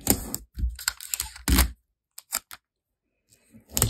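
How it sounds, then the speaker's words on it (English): A paper sewing pattern is taped down, with sharp crackling tape pulls and tearing snaps in close, uneven bursts separated by short silences. "and I'm going to tape it down."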